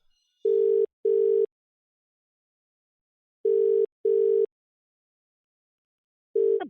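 Telephone ringing out on a call: four long bursts of ringback tone in two evenly spaced pairs, clear and alone with no talk, a fifth burst cut short at the end as the line picks up.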